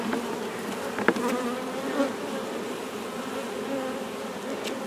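Steady buzzing of many honeybees during a transfer from a 5-frame nucleus box to a 10-frame hive box, a dense droning hum that fills the whole stretch with a few brief louder passes close by.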